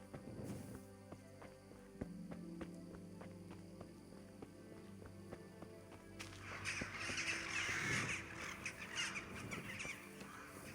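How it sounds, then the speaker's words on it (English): Crows caw in a dark outdoor scene of the video game Kingdom Come: Deliverance, a few scattered calls over a low ambient bed with footsteps and a brighter rustling wash in the later half. "Creepy birds."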